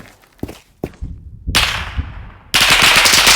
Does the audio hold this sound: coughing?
no